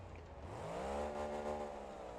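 Car engine in the driving simulator BeamNG.drive revving steadily up toward 9,000 rpm, a continuous rising whine with layered harmonics, loud and close, no talk.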